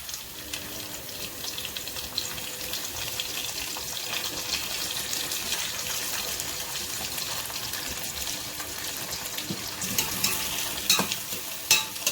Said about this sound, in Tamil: இந்த தக்காளியும் பிரட்டி மூடி விட்டுடலாம் ஒரு 5 நிமிஷத்துக்கு